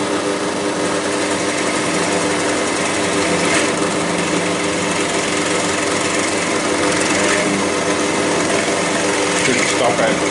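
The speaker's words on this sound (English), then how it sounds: "Turn on the drill bit" A drill bit spins on a shop-built slot cutting machine, a steady, loud motor whine running without a break, with a few brief cutting surges partway through.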